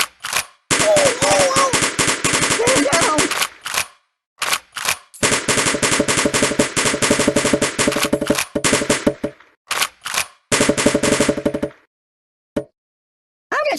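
Rapid machine-gun fire in the mobile game Kick the Buddy: long, loud, sustained bursts of fast shots broken by short pauses, ending with a few scattered single shots.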